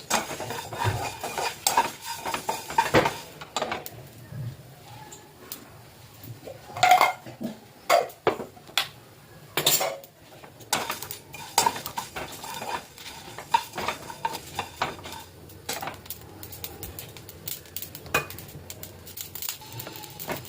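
Dry spices being stirred on a hot tawa griddle over a gas flame, with scattered scraping and clinking taps of a utensil against the metal and a faint background hiss.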